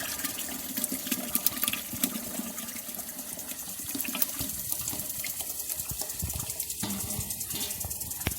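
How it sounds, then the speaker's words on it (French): A flour paint mixture is poured into 14 litres of hot water, giving a close, continuous splashing pour with gurgles that shift near the end, with no talk. "Et ensuite verser le mélange préparé dans nos 14 litres d'eau chaude."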